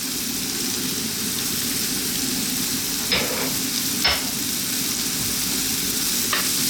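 Onions and garlic with salt and black pepper fry in a pan with a steady, close, dense sizzle throughout, broken by a few brief scraping stirs and no talk.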